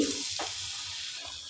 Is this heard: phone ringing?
no